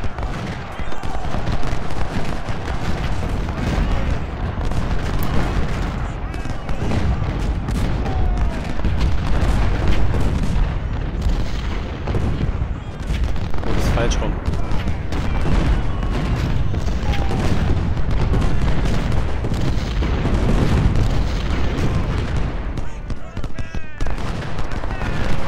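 Cannon artillery fire from a Civil War battle in the video game Ultimate General: Civil War: dense, continuous booms and crackling volleys roll on at high volume without pause, with battle noise layered throughout.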